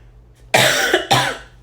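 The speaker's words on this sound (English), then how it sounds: "That I'm coughing." Two sharp, harsh coughs from one person, close to the microphone, the second following about half a second after the first in a quiet room.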